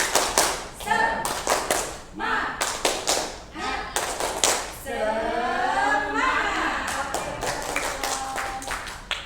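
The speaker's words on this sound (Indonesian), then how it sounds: "biar semarak kita tepuk semangat dulu ya" A group at a school performs the tepuk semangat clapping routine, sharp rhythmic bursts of hand claps in patterned groups, with a stretch of voices chanting along in the middle.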